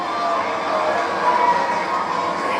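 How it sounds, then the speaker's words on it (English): A large stadium crowd at a NASCAR race in Las Vegas roars in a steady, loud, distant wash of cheering and shouting that holds constant throughout. "Reaction of the crowd."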